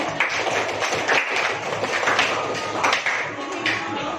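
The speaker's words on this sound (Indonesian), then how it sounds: "Beri tepuk tangan kepada kelompok 2" Classroom audience clapping for a student group after a presentation, a steady patter of many hands at moderate loudness with some room noise beneath.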